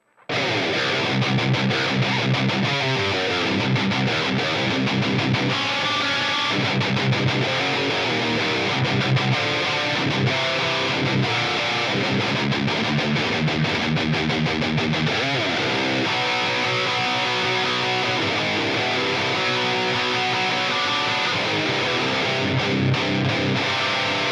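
Heavily distorted electric guitar through a Line 6 POD Go playing a metal riff, loud and dense with chugging, sustained chords and no voices.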